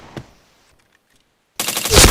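Gunfire in a Katana shooter game: one sharp shot near the start, a near-silent gap, then a loud sustained burst of rapid fire to the end.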